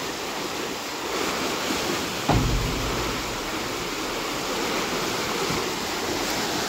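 Broad, steady rush of water pouring out through an open sluice gate in a field, a continuous hiss with one brief thump partway through and no voices.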